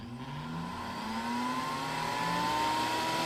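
A glass blender's powerful motor runs steadily on the smoothie setting, a loud continuous whir with a slowly rising pitch that never cuts out.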